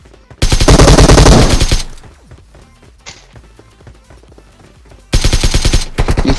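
Bursts of automatic gunfire in PUBG Mobile, a loud rapid volley for over a second, then quieter scattered shots, and another loud rapid burst near the end.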